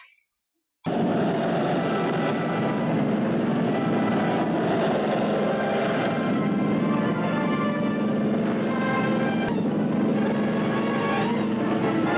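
Aircraft engines on a Japanese carrier during a dawn launch, a loud sustained droning roar with steady propeller hum that starts abruptly after a brief quiet moment and continues unbroken.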